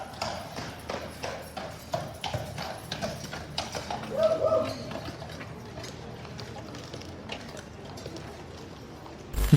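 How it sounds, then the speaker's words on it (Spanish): Royal Guard horses approach with steady clip-clop hoofbeats on hard ground, a continuous rhythmic clatter against crowd noise, with a brief louder moment midway. "Cuando los caballos comenzaron a acercarse"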